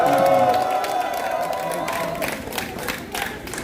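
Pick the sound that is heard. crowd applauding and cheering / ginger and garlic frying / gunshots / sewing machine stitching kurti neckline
crowd applauding and cheering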